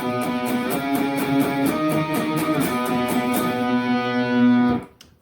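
Electric guitar plays octave figures from a piece in a steady run of repeated picked notes with a faint effects sheen, then a sustained final note that cuts off abruptly near the end.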